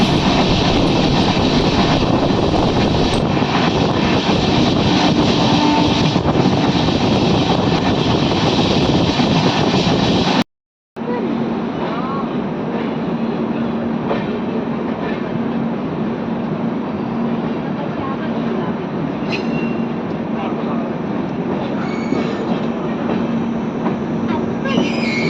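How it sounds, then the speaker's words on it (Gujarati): Goods train rumbling past at a crossing near Vadodara, a loud, continuous broadband roar with steady rail noise throughout, briefly cut off partway and resuming just as heavy. "બીજી પણ માલગાડી આવી રહી છે."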